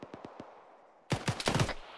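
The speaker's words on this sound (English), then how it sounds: "Alright, shots from south" Airsoft gunfire in a combat simulation game, a quick string of four snapping shots followed by a louder, denser burst of rapid fire after a short pause.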